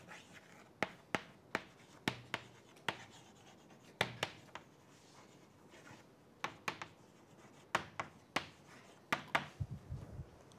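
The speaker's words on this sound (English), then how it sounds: "So let me erase this part now." Brisk swipes of an eraser across a lecture board come as a series of sharp, short rubbing strokes in uneven bursts, close and fairly quiet, with no talking over them.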